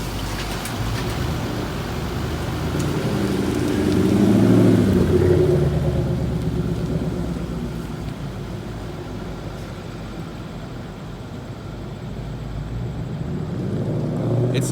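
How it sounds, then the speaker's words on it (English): A modified 2018 Mustang GT pulls away from a dealer service area, its engine rumble swelling to a loud peak and then easing off as it drives off, with a faint voice heard along the way. "It's so funny seeing somebody else drive my car away."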